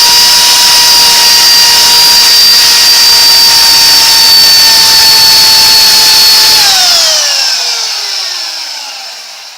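A chainsaw cutting a log into a bowl blank, running loud and close at a steady high-revving whine for several seconds before the engine winds down and fades at the end.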